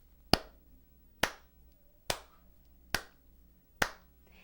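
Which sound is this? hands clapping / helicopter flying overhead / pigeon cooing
hands clapping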